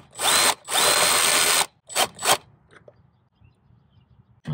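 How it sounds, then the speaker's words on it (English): A power drill removes bolts from an EGR valve on a 2002 Mitsubishi Montero Sport, whirring in two long bursts, then two short quick pulses, followed by faint clicks and handling sounds. "I'm only using power tools just to speed up the process of everything"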